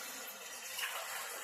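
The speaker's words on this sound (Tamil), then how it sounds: "தண்ணி ஊத்துறேன்." Water pours steadily into a cooking pot of tomato rice, a soft continuous rushing splash heard fairly faintly.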